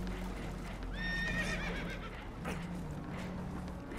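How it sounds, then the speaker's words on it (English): Spooked horses neighing in Red Dead Redemption 2, a single shrill whinny rising and falling over a steady background of rushing water and rumble, with faint knocks and hoof-like clatter. "Horses are spooked, and we're taking on water."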